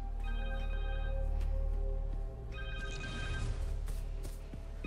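A phone rings in the PS5 game Marvel's Spider-Man 2, repeated electronic trilling ring bursts over a low droning game score, loud and close with no voices.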